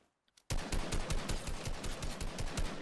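Loud, rapid automatic gunfire in a Fortnite-style battle royale game starts abruptly after a brief quiet and rattles on continuously in fast repeated bursts.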